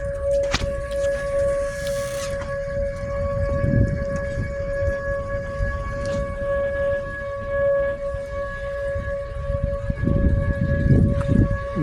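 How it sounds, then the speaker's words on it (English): Tornado warning sirens wail steadily throughout at a McDonald's during an April 2024 tornado event, a sustained droning tone carrying over constant outdoor rumble and wind noise. "They do indeed have the sirens running."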